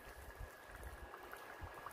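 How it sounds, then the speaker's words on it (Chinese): Dry ice bubbles in a bowl of instant noodles with a soft, continuous fizzing and gurgling, low and close, with no voices. "到现在还在冒泡。"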